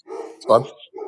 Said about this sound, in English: That's my dog you can hear in the background.